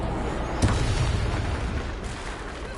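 Hogwarts Legacy spell blasts erupt in a heavy, continuous wash of booming noise, with one sharper burst standing out near the start over a loud sustained roar.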